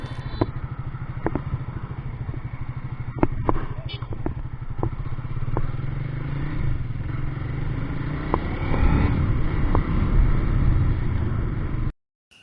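A Triumph Speed 400 motorcycle with a 400cc engine runs on a test ride, its low, even engine drone steady throughout with scattered clicks and clatter, then cutting off abruptly at the end.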